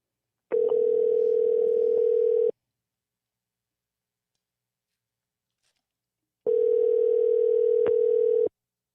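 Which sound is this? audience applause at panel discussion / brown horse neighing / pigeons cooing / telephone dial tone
telephone dial tone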